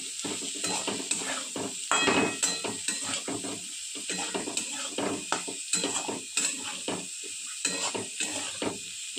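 Chowmein mix with half a packet of Maggi masala being stirred in a pan, a steady run of scraping, clattering spoon strokes over a soft background sizzle, close and fairly loud with no talking.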